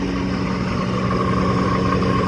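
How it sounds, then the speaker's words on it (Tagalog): A rooftop exhaust fan runs with a steady, loud mechanical hum and whir, constant and unbroken with no voices. "Ayun, dito na ako sa pinaka rooftop. Ayan ang exhaust fan."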